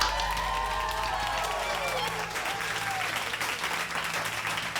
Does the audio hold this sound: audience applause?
yes